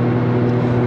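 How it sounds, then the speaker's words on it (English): Inside a truck while driving, a loud, steady low drone of engine and road noise fills the cab, with no talk over it. "I'm driving and my truck is so freaking noisy."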